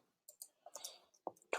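A computer mouse clicks several times in quick, irregular succession while a dimension is set in CAD software. The clicks are faint, close and crisp, with no talking.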